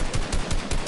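Rapid automatic gunfire in the video game Fortnite, a loud, close burst of about five evenly spaced shots in under a second, heard alone.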